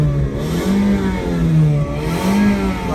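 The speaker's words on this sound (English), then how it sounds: "This car, we have to do some revs right now and annoy everyone." An EK Honda Civic engine revs repeatedly up and down close by, rising and falling in pitch several times, loud and alone.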